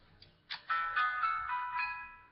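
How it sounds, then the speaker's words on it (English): A mobile phone plays a short melodic electronic ringtone, a quick rising run of bright tones, close and fairly clear in a quiet room. "That was my phone again."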